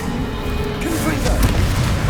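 A Confringo blasting spell in the Hogwarts Legacy video game goes off as a deep boom, a dull blast rolling beneath a steady bed of game sound and a voice.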